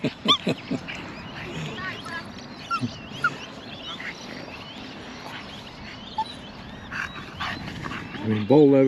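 Several dogs at a dog park give short barks and yelps, scattered through the stretch and fairly close, with one louder burst near the end and outdoor background noise throughout.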